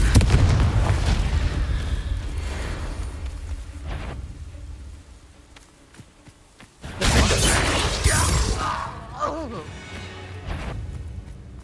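Loud magical Confringo blast in Hogwarts Legacy, a booming explosion opening the passage, then quieter rumble and a second burst of crashing, crackling impact midway, with a voice speaking over parts of it.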